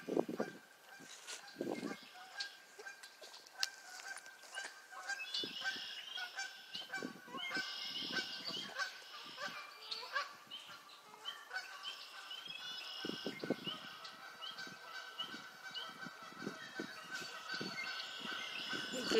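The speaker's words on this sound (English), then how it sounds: "The geese are gonna land way over there." Geese honk repeatedly in a loose chorus at a pond in spring, some calls close and loud, others farther off, with a steady outdoor background and no talking.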